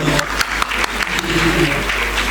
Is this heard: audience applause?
yes